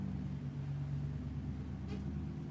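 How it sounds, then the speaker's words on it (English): A Ford Mustang engine idles with a low, steady rumble heard from a moderate distance, fairly quiet and even throughout, with no talk over it. "Sound like a Mustang to start with."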